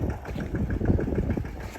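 Farm tractor engine running nearby, a low throbbing idle with a steady pulsing beat, moderately quiet and heard alone.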